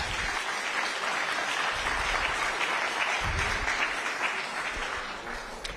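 An audience at an Orange County town hall applauds steadily for about six seconds, a dense, loud wash of clapping that tapers slightly at the end.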